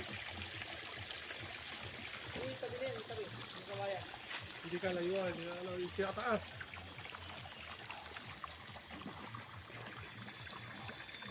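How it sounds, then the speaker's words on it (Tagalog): Clear water from a natural spring among bamboo on a farm lot in Real, Quezon flows in a steady, continuous rush, with someone speaking over it partway through. "Yan, tuloy-tuloy na ang tubig oh."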